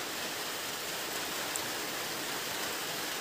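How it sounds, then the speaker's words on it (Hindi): Steady rain falls in Khumulwng, a dense even hiss with no talk over it and no change in level. "तो आज फिर से बारिश दिया है"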